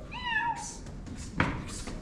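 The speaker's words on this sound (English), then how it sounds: "Four cats now. Five. Cats everywhere." Cats meowing on a street in Hammamet, Tunisia: one clear, drawn-out meow near the start, followed by a soft thump and faint street noise, with no talk.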